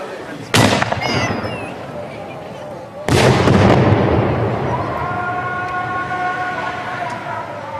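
Two huge firecrackers boom at sunset during Ramadan in Syria, one sharp blast and then a second a few seconds later, each trailing long echoing rumble, while a tonal call to prayer rises afterward.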